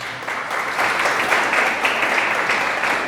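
A church congregation breaks into loud, dense applause, a steady wash of many hands clapping together for a few seconds without pause.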